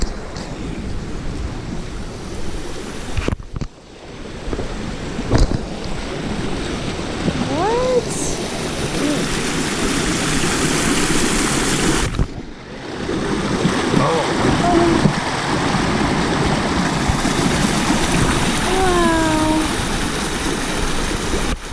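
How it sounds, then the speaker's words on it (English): Strong rapids of a stream at Solomon Gulch, Alaska, in winter, a steady broadband rush of water close by with wind buffeting the microphone and occasional talk over it. "Feel the rapids. See how strong the water is."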